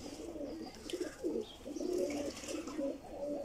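A pigeon coos in low, soft repeated phrases, nearby and fairly quiet, with faint background noise and no talking.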